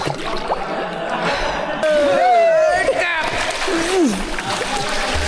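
People swim and splash in water inside a cave deep underground, with sloshing close by and voices calling and talking over the splashes.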